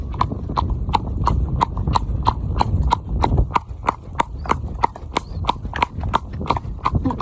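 Horse hooves clip-clop on a paved road during a ride out, a steady walking rhythm of sharp, close knocks repeating about twice a second, with wind and faint background noise underneath.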